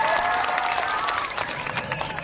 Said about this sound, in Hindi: एगो जोरदार ताली हमारे मोदी जी और पूज्य योगी महाराज का।